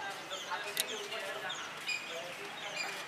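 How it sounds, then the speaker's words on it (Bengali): Birds and pigeons call outdoors in the early morning, faint scattered chirps and coos over a steady background hiss, with speech partly covering them. "কত পাখি উঠছে, এখানে পায়রা বসে আছে।"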